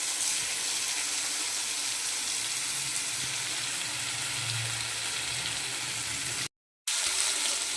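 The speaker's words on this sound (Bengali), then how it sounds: "একটু কষানো হবে এটা" Ground cashew, ginger-garlic and spice paste sizzles steadily in a pan as it is sautéed for mutton kosha, a continuous close frying hiss with a brief dropout near the end and no talk.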